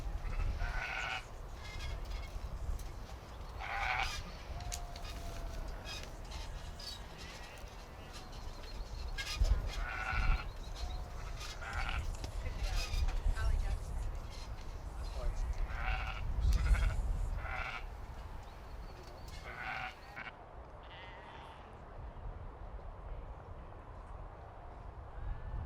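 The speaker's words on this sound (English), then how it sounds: "we have a lovely lineup of the Beltex ewe lambs" Beltex ewe lambs bleat repeatedly in a show ring, several voices calling out one after another over a murmuring crowd, with occasional hoof shuffles nearby.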